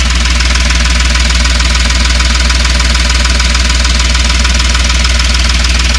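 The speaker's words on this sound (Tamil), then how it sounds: "இன்ஜின் நாய்ஸு வேறு லெவல்" A 2018 Ashok Leyland Dost small truck's diesel engine idles steadily and loudly up close, with a constant knocking rumble that never changes pace.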